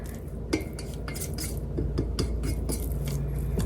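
Noodles being stirred with beef flavoring in a pot or bowl, a run of repeated light clinks and scrapes of a utensil against the dish at an irregular pace, close and moderately loud, with no voices.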